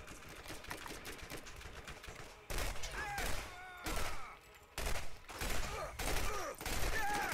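A battle rifle-pistol hybrid gun in Borderlands fires in rapid bursts, each volley a sharp cluster of shots separated by brief pauses, sounding close and punchy over faint background voices.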